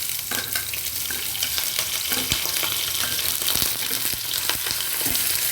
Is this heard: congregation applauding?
no